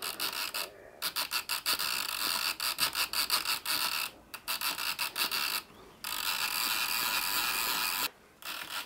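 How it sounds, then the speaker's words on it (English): A hand-worked mechanical oil pump for a model steam engine gives a steady run of rapid rasping, ratcheting strokes close by, broken by a few brief pauses. "Now we can now work the pump by hand, and it should hopefully push oil up that tube."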